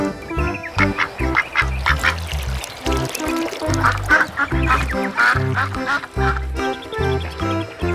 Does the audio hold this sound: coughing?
no